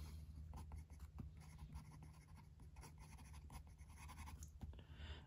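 Steel-nib fountain pen filled with moss green ink writing on paper, a quiet close-up series of soft scratchy strokes and taps in a steady irregular rhythm, faint and without speech.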